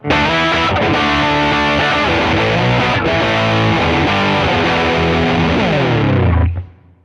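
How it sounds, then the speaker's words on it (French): Electric guitar played through a heavily saturated distortion effect, dense and sustained chords ringing loud and close for several seconds before a final chord decays away, with no talking. "la distorsion va quant à elle être beaucoup plus saturée"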